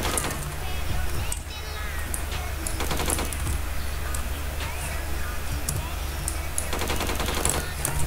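Rapid automatic gunfire from a gun in Phantom Forces on the Metro map, repeated bursts of quick rattling shots over a steady game background, with a voice talking alongside.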